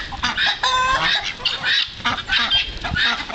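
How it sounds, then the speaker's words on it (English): Swan geese on a farm honk and call repeatedly at close range, loud, brassy honks in quick, uneven bursts with short pauses between. "These guys are new. Those are swan geese."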